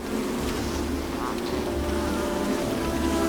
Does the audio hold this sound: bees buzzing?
yes